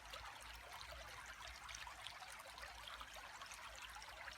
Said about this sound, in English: this is a beautiful place to go and just to listen to the water